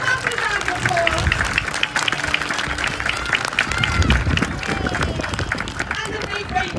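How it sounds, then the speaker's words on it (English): Zoo audience at a sea lion show clapping in a sustained, lively round, with crowd murmur and chatter mixed in, fairly close and loud throughout. "So everybody can give Andy and Elisa and Shona a massive round of applause."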